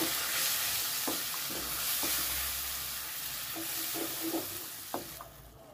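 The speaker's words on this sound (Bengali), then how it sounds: "সামান্য জল দিয়ে দেবো, দিয়ে মশলার পেস্টটাকে সুন্দর করে একটু কষিয়ে নেব।" Spice paste with a little water sizzles steadily in a pan, with soft stirring scrapes and a few small clicks throughout, close and alone with no talking.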